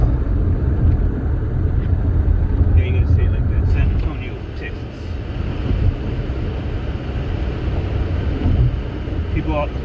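A car drives through San Antonio, Texas, its steady low engine and road rumble running continuously at close range beneath intermittent talking.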